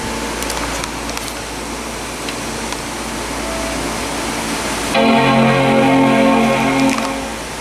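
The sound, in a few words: Power Macintosh G4 QuickSilver startup chime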